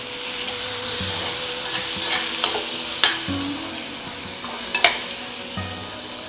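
Onions and tomato sauté for a Tamil fish curry (meen kulambu), with a steady, soft sizzle broken by occasional scrapes and clicks of stirring in the pan, close and alone.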